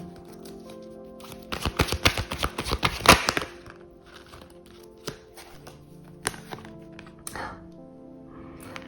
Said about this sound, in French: Je vais tirer une série de cartes pour avoir une lecture générale.